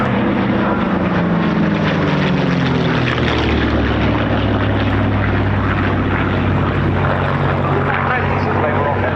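Propeller-driven World War II fighters such as a P-47 Thunderbolt and P-51 Mustang roar past at an air show, a loud, continuous engine drone with a falling pitch as they pass, while a voice commentates over it.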